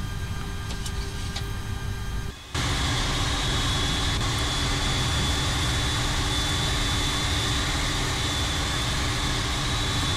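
Jet engines of airliners queued for departure at Heathrow near runway 27 right, a steady, loud, continuous drone with a very brief dip early on and no talking.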